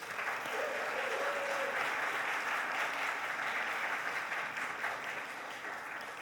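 Audience at a teacher workshop applauds Dr. Freeman, a sustained, even wash of clapping that holds for several seconds before easing slightly.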